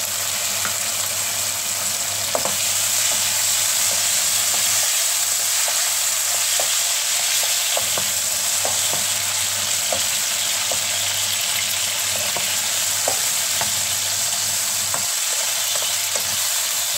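Tomatoes sauté in a frying pan for a tomato shrimp and egg dish, giving a steady close sizzle throughout with scattered light clicks of a utensil stirring, and no talking.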